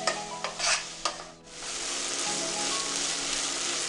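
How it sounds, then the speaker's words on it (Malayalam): Onions fry in a pan for a crab roast while a spoon stirs them. Several scraping stir strokes come first, then a steady sizzle continues on its own at moderate volume. "ഇതൊന്ന് നല്ലപോലെ വഴന്ന് വരുന്നവരെ ഇളക്കി കൊടുക്കാം"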